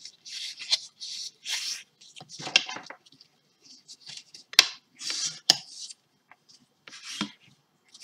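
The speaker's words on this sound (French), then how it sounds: "On va venir marquer nos plis déjà." Fold lines scored into craft paper with a tool, a series of short scraping and rubbing strokes, close and fairly quiet, separated by pauses.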